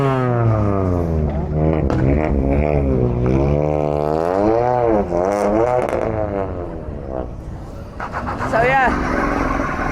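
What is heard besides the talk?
high-powered cars revving at car meet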